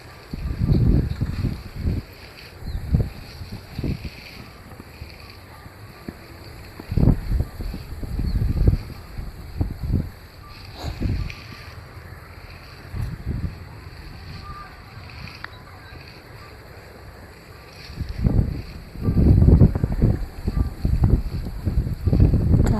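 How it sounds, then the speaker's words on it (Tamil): Strong wind blowing outdoors across open farmland during an ancestral worship offering, roaring in steady gusts with low rumbling bursts buffeting the microphone throughout. "காற்று கொஞ்சம் கூட நிற்கலை"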